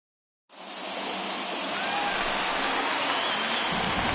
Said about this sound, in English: There is rain in the area